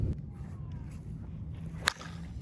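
Victus Pink Pencil slowpitch softball bat striking a ball: one sharp, bright crack near the end of the clip, alone against a quiet hum with faint scattered rustles before it.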